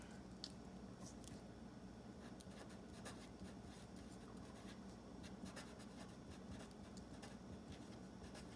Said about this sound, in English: let me write just a few things down, and I really